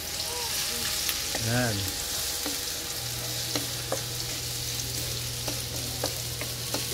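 Ginger fries in hot oil with a steady close sizzle and occasional spattering pops, while a brief voice and a low steady hum sit underneath.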